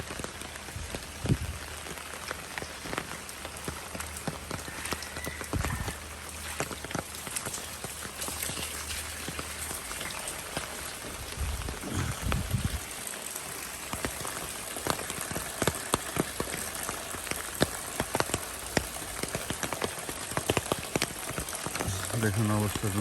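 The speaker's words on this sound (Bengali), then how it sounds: "আজকে 10 থেকে 15 দিন একটানা বৃষ্টি হইতেছে" Steady rain falls on a rooftop garden after days of nonstop downpour, its dense patter close and continuous, with drips and a few heavier thumps underneath.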